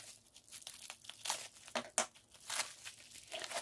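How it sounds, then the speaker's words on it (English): Bubble wrap packaging being cut open, producing close, quiet crinkling and rustling plastic sounds with a few sharper snaps. "the items are safely secured in bubble wrap. So I'm just gonna cut this."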